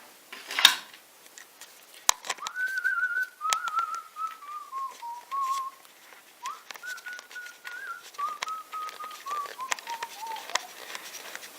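A person whistles a slow, wavering tune in several phrases, with clicks and rustling handling noises around it and no talking.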